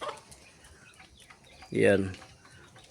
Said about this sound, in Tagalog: Sa mga alaga nating manok. Yan po silang lahat.